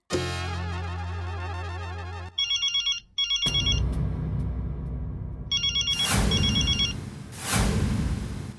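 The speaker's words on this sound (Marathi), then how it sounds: "फोन उचला" An electronic telephone ringtone trills in repeated bursts, mixed with music and loud whooshing noise.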